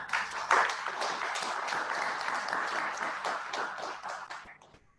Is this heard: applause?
yes